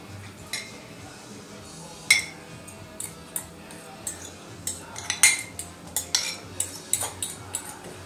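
A mixture being dumped and scraped from a container into potatoes in a bowl for a gluten-free vegan Irish potato pie, heard as scattered clinks and knocks of a utensil against dishes over a quiet kitchen background.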